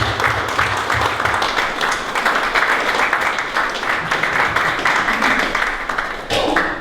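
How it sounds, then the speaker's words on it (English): Audience at a Worcester Rotary Club scholarship event gives a sustained round of applause for student recipients, dense steady clapping throughout, dipping briefly near the end. "I'd like to ask for another round of applause for these worthy students"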